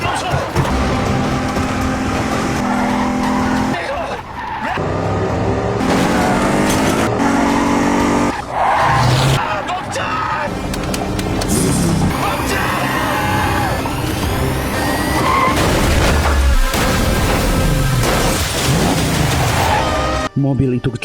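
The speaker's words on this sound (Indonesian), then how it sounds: "Mobil itu kecelakaan." Car skidding with squealing tires and a crash as a taxi rams it during a chase, loud and continuous for about twenty seconds amid dense engine and impact noise, with music or effects layered throughout.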